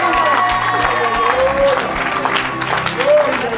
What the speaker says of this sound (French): Donne une grande acclamation à Jésus de Nazareth.